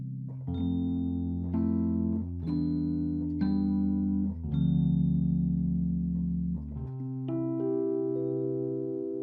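Mellow lo-fi electric piano chords from a software plugin, played dry and close, sustained tones shifting every second or so with no room echo.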